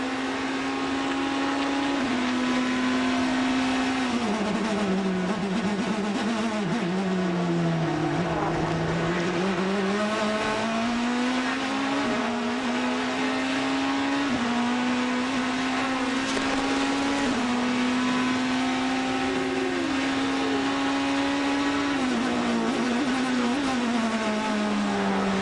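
A BMW race car engine roars onboard at the Sebring 12 Hours endurance race. The loud, continuous engine note rises and falls in pitch through gear changes and braking, with no voices over it.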